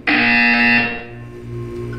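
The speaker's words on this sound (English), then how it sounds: "You will hear a buzzer." A harsh electronic buzzer from the video game Portal 2 blares loudly for under a second, then fades into a softer lingering hum.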